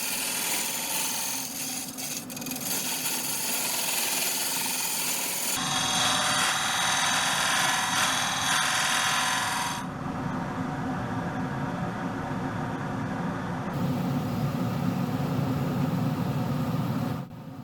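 An oak burl bowl spinning on a lathe is hollowed with a carbide-tipped negative rake scraper, giving a steady, close scraping hiss over the motor's hum that shifts in tone as the cut changes.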